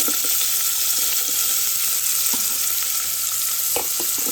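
Onions and celery sizzle in a pot after beef short ribs were seared, giving a steady, close frying hiss with faint clinks throughout.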